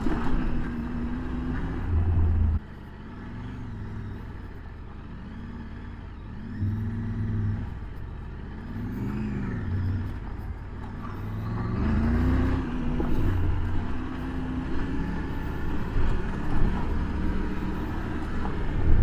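Triumph Tiger 900 Rally Pro motorcycle engine on an off-road test ride at a rally in Texas, a low rumbling drone with repeated throttle swells and wind noise, steady and close throughout.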